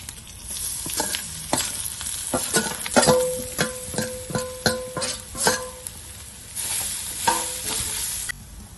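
Ground masala with mustard seeds and curry leaves fries in oil for a dried fish sambal, a steady sizzle broken by clustered pops, crackles and utensil scrapes against the pan.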